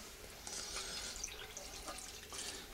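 Water trickles and splashes faintly into a pot of spaghetti meat sauce, a brief soft pour with slight dripping.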